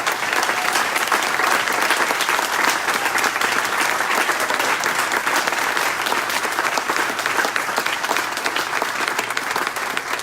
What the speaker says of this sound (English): I ask that you please give them and Good Samaritan Ministries some applause.